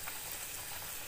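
Steady, bright sizzling of chiroti dough frying in hot oil, a continuous hiss with no talking.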